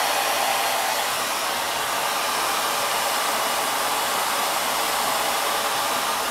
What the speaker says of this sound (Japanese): 少しでも早い時間にドライヤーするのがいいって